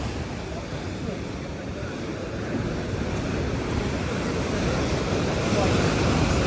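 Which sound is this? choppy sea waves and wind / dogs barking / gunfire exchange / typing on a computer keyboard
choppy sea waves and wind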